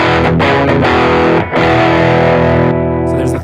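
An electric guitar plays through a distortion pedal at its highest setting, producing loud, heavily saturated chords that sustain with a brief break in the middle and no voices.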